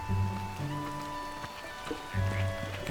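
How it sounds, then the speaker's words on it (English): Steady rain falls in Zelda: Tears of the Kingdom, a soft, constant hiss that runs through the whole stretch, with sustained in-game music tones layered over it and no talking. "It's a rainy old day."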